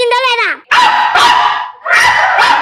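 A voice on a Telugu TV comedy show imitates a dog, starting with a whining yelp and following with three loud, close barks.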